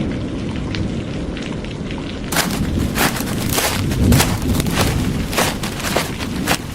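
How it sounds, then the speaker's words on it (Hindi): Heavy rain pours steadily in a Hindi cartoon story, a dense hiss that thickens partway through, with sharp crackling bursts like drops or distant thunder. "कितनी जोर की बारिश हो रही है 2 दिनों से।"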